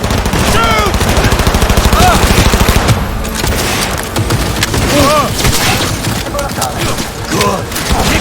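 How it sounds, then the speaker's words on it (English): Rapid, loud automatic gunfire in the sci-fi shooter Cyberpunk 2077, dense rattling bursts with splintering impacts and calls between combatants through most of the scene. "Enemy contact! I'm engaging! Weapons ready. Fire at will."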